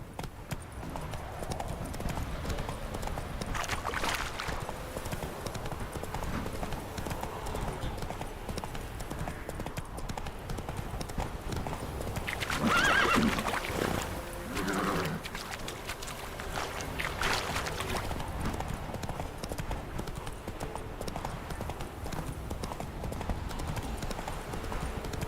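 Horse galloping in The Witcher 3: Wild Hunt, a steady rhythmic clip-clop of hooves running continuously at close range, with a brief louder swell midway.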